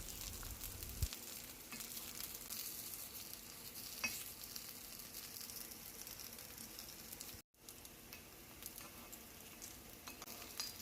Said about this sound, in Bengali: আমি এখানে অল্প আঁচে গ্যাস কমিয়ে রান্না করছি, নাহলে বলগুলো তাড়াতাড়ি পুড়ে যাবে।